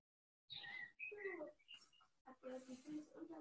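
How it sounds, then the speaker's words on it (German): A bird chirps in the background of an online video call, giving a few bright, fairly close calls in short bursts, with some faint human sound mixed in. "Ich höre einen Vogel zwitschern"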